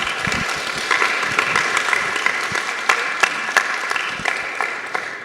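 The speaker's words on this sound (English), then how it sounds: "If we can give them a round of applause one more time." Crowd applause at a youth day mock council event, a steady wash of many hands clapping with sharp individual claps poking through, sustained for several seconds with no talking.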